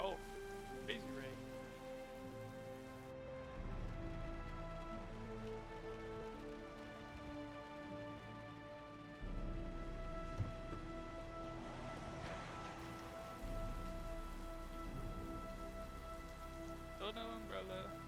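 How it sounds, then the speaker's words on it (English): Steady heavy rain pattering on a surface, continuous and dense throughout, with faint voices or other sounds mixed in the background. "crazy rain."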